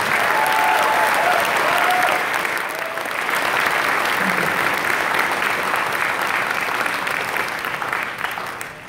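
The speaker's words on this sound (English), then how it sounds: "can we give a big round of applause to all of our partners?" Loud sustained applause from a convention audience in a large hall in the Cox Business Center in Tulsa, dense clapping holding steady for several seconds before slowly thinning out toward the end.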